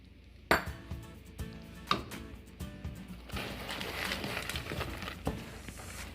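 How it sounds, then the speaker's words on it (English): Peanuts are tipped into a pan of hot peanut brittle candy, sharp clinks and clatter of pan and utensil followed by a rougher scraping, stirring rustle, fairly quiet and close. "First I add my peanuts."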